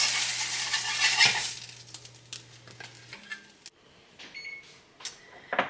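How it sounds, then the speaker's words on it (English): Salmon burgers lifted from a sizzling frying pan and set on a plate, with a steady sizzle fading out, then scattered clinks and scrapes of a spatula and plate close by. "Get these suckers out and let them rest on a plate."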